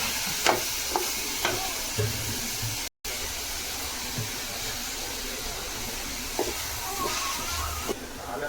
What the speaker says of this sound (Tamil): இப்போ வந்து நாங்கள் இந்த கீரை போட்டுக்கலாம் போட்டு ஒரு ரெண்டு நிமிஷம் வந்து ஸ்லோவில் வச்சு நாங்கள் நல்லா வதங்கி வரட்டும்